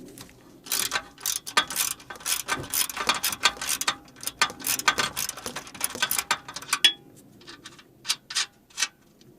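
Ratchet wrench clicks in rapid bursts while loosening bolts on a 2007 Chevy Suburban during an air-ride compressor install, close and irregular with short pauses between strokes.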